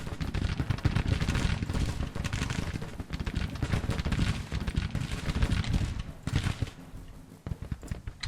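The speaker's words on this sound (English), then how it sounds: "Okay, we're under fire." Dense, continuous battle gunfire from Grand Tactician: The Civil War: rolling musket volleys and cracking shots layered over deep booms, loud and unbroken throughout with no voices.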